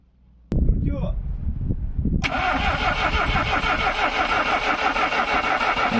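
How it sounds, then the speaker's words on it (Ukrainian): A car engine cranks on a lithium titanate battery and fails to start, with a sharp starter engagement followed by a loud, steady grinding whir that continues without catching. "Бачимо, що акумулятор не заводить автомобіль."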